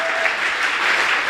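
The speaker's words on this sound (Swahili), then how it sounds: "Nisaidie kumpa Yesu makofi" A church congregation claps together in a short burst, a dense, even patter of many hands filling the room for just over a second.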